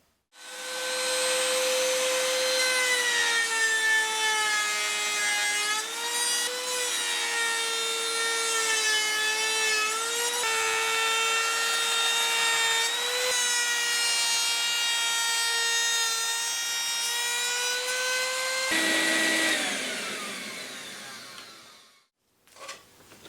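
A wooden guitar neck for a PRS-style carved-top guitar is shaped down to size by a machine, giving a loud, steady whining drone with shifting pitch that runs continuously for about nineteen seconds and then winds down.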